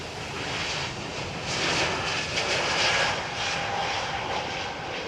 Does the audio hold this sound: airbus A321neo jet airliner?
yes